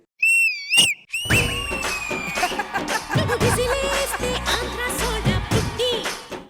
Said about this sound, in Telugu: విజిల్ వేయడం వచ్చా?